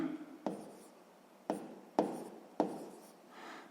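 A pen writes out a sixth-grade math subtraction exercise by hand, giving four short, scratchy strokes close to the paper with quiet gaps between them and no speech.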